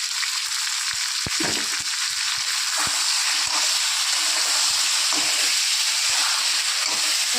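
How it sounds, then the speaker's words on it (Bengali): A spice paste of ginger, onion, garlic and tomato fries hard in a pan with potato and eggplant, giving a loud, steady sizzle and hiss throughout with occasional stirring clatter and no voices. "আদা পেঁয়াজ দুপা রসুন আর একটা টমেটো বাটা দিয়ে ভালো করে কষিয়ে নেবো"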